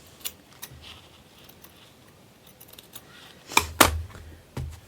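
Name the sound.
trimming printed fabric with scissors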